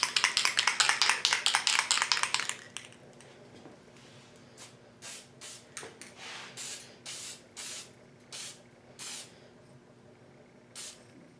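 Graphite gray metallic spray paint hisses from a can onto a Tamiya Super Clodbuster RC part, first in a rapid run of short bursts, then in slower, spaced, quieter puffs.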